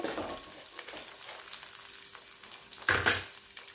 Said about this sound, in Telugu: ఇప్పుడు తురిమి పెట్టుకున్న పచ్చి కొబ్బరి కూడా తాలింపులో వేసుకొని కలుపుకోవాలి